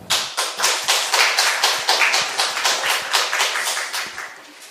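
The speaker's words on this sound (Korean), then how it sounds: "저도 박수 해주시네" A church congregation at a Sunday mission service applauds a pastor, a dense, steady burst of many hands clapping close and loud for several seconds with no talk over it.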